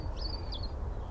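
A bird chirps twice in quick succession, thin and clear above a steady low rumble outdoors near a Manchester airport, where a magpie is also about.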